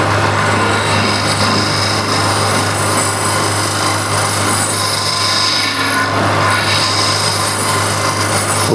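A square scraper is drawn lightly over very hard wood spinning on a lathe, giving a continuous loud rasping hiss over the steady hum of the machine, close up and with no talking.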